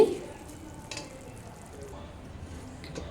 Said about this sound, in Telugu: ఇప్పుడు ఇందులో నేను చికెన్ వేస్తున్నాను మనం ముందుగా ఫ్రై చేసి పెట్టుకున్న చికెన్ వేసుకోవాలి